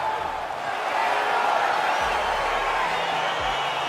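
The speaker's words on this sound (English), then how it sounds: "crowd getting excited as this fight gets underway" A video game crowd in UFC 4 roars steadily as a fight gets underway, a dense, continuous wash of arena noise with a faint low hum beneath it.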